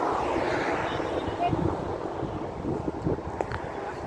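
Wind buffets the microphone on a bicycle ride before rain in a continuous low rumble, gusting slightly louder at moments, with faint sounds behind it.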